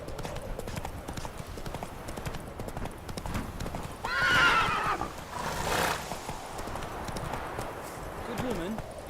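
Roach, a horse in The Witcher 3 video game, trots with steady clip-clop hoofbeats and a brief whinny midway, mixed with ambient game sound and a rider's voice speaking.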